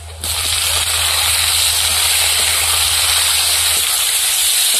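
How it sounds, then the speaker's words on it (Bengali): Tomato dropped into a hot pan of lightly fried onion and crushed garlic sets off a sudden loud, steady hiss of sizzling that holds evenly to the end, with no talk. "এবার এর মধ্যে টমেটো দিয়ে দেবো।"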